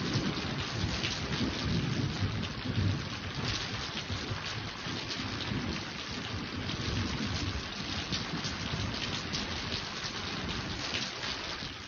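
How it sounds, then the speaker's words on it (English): Steady heavy rain pours without a break, with low thunder rumbling beneath it throughout, a dense, even wash of storm noise. "All I need now is to have it start raining."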